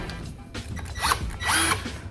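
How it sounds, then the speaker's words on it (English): A Ryobi cordless drill making holes for side skirts on a Nissan Maxima, heard as two short whirring spin-ups with rising pitch over a rattly mechanical background, fairly close. "Good little Ryobi drill."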